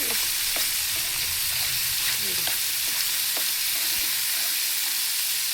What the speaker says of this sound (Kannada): ಅದನ್ನು ಸ್ವಲ್ಪ ಎಣ್ಣೆ, ಉಪ್ಪು, ಖಾರ ಪುಡಿ ಹಾಕಿ ಈ ಥರ ಫ್ರೈ ಮಾಡಿ ತಿನ್ನೋಣಂತ ಈ ಥರ ಮಾಡ್ತಾ ಇದ್ದೀನಿ